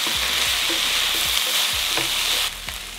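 Ground meat fries in a hot pan with a steady, loud sizzle as potatoes go in, with a few soft knocks of a spoon stirring through the hiss.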